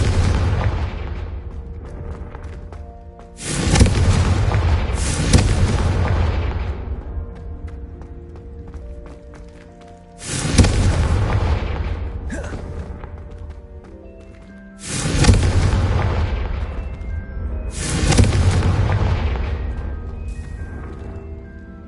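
Confringo explosion spells in Hogwarts Legacy burst in a series of five heavy booms a few seconds apart, each a loud, broad blast that rumbles and fades away.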